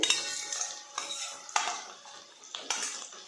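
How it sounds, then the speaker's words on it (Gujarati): A medium-sized chopped onion sautés in butter in a pan as part of Surat street food paneer gotalo, with faint sizzling under repeated metal utensil clinks and scraping as it is stirred; no voices. "ડુંગળીને અડધી મિનિટ માટે આપણે બટરની અંદર સાતળવા દેવાની છે"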